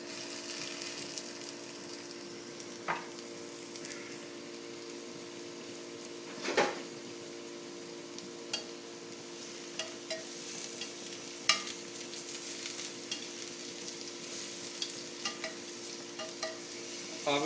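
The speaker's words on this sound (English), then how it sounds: "This is, Greg, this is where you want maximum heat. I want to cook all this as quickly as possible." Tofu, broccoli and shiitake mushrooms stir-fried over maximum heat give a steady close sizzle and hiss, broken by irregular clacks and scrapes of a utensil against the pan.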